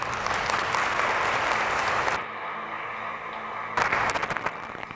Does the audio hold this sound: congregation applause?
yes